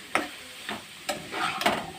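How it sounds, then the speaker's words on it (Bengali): Cauliflower greens fry in a pan with a soft sizzle, broken by four or five scraping stirs of a spatula. "ফুলকপি শাক তো ভাজা হচ্ছেই"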